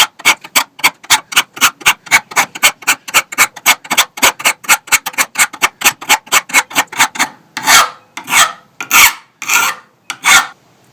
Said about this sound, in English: when you're filing the blades you only want to go in one direction